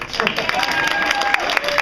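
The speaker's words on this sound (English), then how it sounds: "Round of applause for the human stamp." A live audience breaks into applause and cheering after a comedy bit, a dense crowd sound of many hands clapping steadily throughout with voices mixed in.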